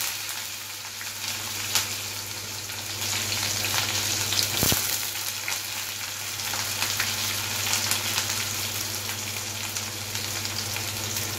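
Vadagam and onion frying in oil, a dense continuous crackling sizzle close up with a low steady hum underneath and one brief clatter partway through; no talking.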